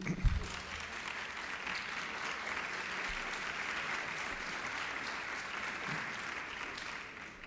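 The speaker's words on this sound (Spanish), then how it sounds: "Se oyó nada más la mitad del aplauso." A conference crowd at a national tourism forum in Mexico applauds; the sustained, even clapping sounds faint and distant, with a soft thump at the very start.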